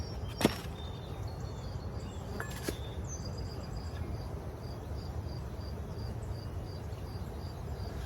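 Honey bees swarm around an open hive while honey frames are reinstalled after harvest, a dense, steady buzzing that fills the whole stretch, broken by a couple of brief sharp clicks near the start.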